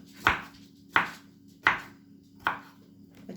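A knife chops through a cucumber half on a cutting board, four evenly spaced sharp thuds about 0.7 seconds apart, close and clear, with a steady low hum underneath.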